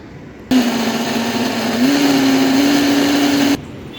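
A blender whirs loudly for about three seconds chopping tomato pieces for pizza sauce, its motor pitch rising slightly partway through before cutting off abruptly.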